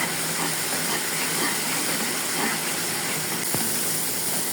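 Ground cumin and other spices frying in a pan for a boal fish curry, a steady close hiss and sizzle that runs on unbroken with faint crackles scattered through it.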